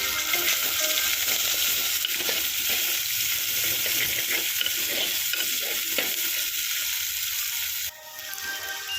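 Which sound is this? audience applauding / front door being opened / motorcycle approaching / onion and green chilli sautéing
onion and green chilli sautéing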